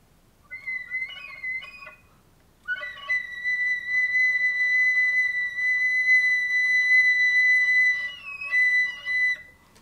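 Thin, high flute whistle tones float in gentle, breathy sustained pitches, a few short wavering notes giving way to a long steady tone that bends slightly before fading, alone in a quiet room.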